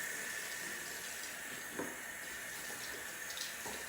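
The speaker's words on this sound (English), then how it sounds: "Gonna get my sponge wet." Water running from a tap to wet a shaving sponge: a soft, steady stream with a couple of faint splashes, quiet and continuous.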